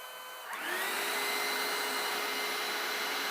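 A cordless vacuum cleaner powered by a 21700 ten-cell battery pack switches on, its motor whining up to speed within half a second and then holding a loud, steady roar alone.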